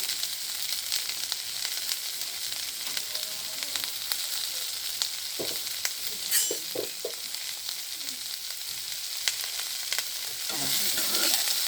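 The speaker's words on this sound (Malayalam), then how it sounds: "ഉള്ളിയും വെളുത്തുള്ളിയും പച്ചമുളകും ഇഞ്ചി, ഉള്ളി, പച്ചമുളക്, ഇഞ്ചി, വെളുത്തുള്ളി ഇത്രയും ഇട്ടിട്ടുണ്ട് കേട്ടോ" Chopped onion, garlic, green chili and ginger frying in oil for a squid curry, a steady loud hiss of sizzling broken by occasional scraping stirs of a spoon in the pan.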